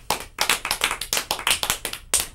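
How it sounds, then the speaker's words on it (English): A studio audience on a comedy talk show claps in unison, a tight series of about a dozen sharp, loud group claps in a quick, slightly uneven rhythm. "Let's all clap at the same time"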